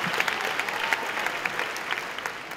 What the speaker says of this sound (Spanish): pido un fortísimo aplauso